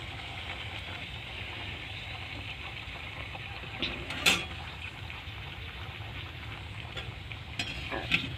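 Food frying in oil until crisp, a quiet, even sizzle with a low background hum and a few soft clinks of a utensil.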